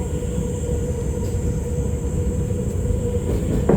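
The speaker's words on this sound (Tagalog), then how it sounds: "At ito naman sa taas ay MRT yan, guys. Train pala yun." Rail cars of the MRT elevated line in Manila rumble steadily past overhead, a continuous loud low roar with faint high squeal and no voices, sustained throughout.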